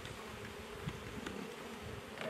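Honey bees at a backyard hive calmed with smoke give a steady, close insect drone. Louder passes come through now and then as single bees fly near.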